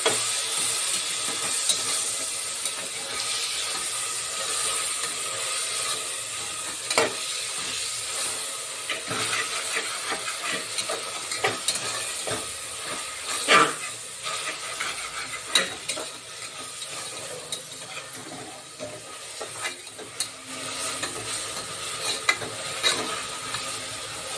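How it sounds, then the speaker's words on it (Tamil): Ginger garlic paste sautés in a pan with a continuous hiss, punctuated by repeated scraping and clinking strokes of a spoon stirring at irregular intervals; no talk. "இஞ்சி பூண்டு பேஸ்ட் வதங்கட்டும்."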